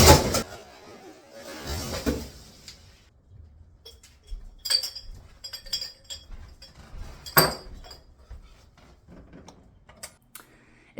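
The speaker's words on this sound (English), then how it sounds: "fill your glass with ice. We pour, so we have an ice bucket." Ice cubes dropped from an ice bucket into a glass, giving several sharp clinks and rattles at irregular intervals, fairly close and clear against a quiet background.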